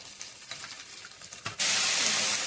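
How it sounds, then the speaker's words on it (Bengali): Spice paste of cumin and green chilli sizzles in a pan for a mutton curry, with light stirring clinks, then a sudden loud, steady hiss of frying takes over and holds to the end. "আমি ভালো করে মশলাটা কষিয়ে নেব"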